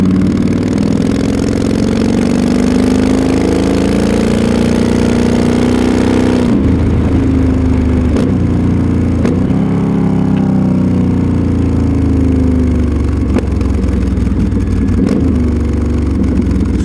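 A loud Yamaha XVS 1300 motorcycle engine with an EFI tuner installed runs and revs, its pitch climbing and settling, with a few sharp exhaust pops cracking during the throttle changes.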